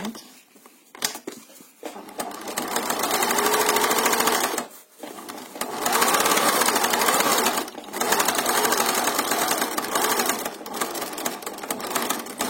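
A sewing machine stitches a fabric mask with elastic in bursts of rapid, even mechanical chatter, several runs of a few seconds each, separated by short pauses and soft handling sounds.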